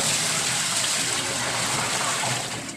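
Steady, loud rush of water pouring continuously into a washing machine tub, close up, with no pauses.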